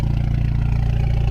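Alfa Romeo Giulia 2.0T fitted with a 3-inch Club Alfa Trofeo Ultimo exhaust, rumbling steadily at a low, throbbing idle, close and loud with no one talking.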